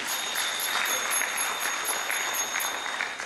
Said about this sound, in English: if we can just give them a big round of applause